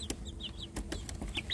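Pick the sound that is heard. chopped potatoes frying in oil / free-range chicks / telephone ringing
free-range chicks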